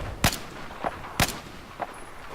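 Sniper rifle fire in Battlefield 4, with two sharp loud shots about a second apart, each followed by a fainter distant report.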